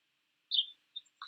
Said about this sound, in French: on entend les oiseaux, il fait beau à Reims là